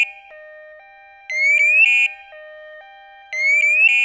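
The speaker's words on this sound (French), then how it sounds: "déclenche une puissante combinaison de signaux sonores et lumineux clignotants" Evacuaid emergency bracelet alarm: a loud electronic warble of rising tones in two bursts, separated by a quieter alternating two-tone beep, sharp and close with no talk.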